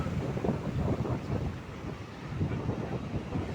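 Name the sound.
strong wind at sea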